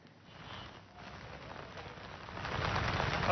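Heavy monsoon rain falls in Nagpur, a steady, dense hiss of drops on surfaces that builds and grows louder toward the end, with no voices.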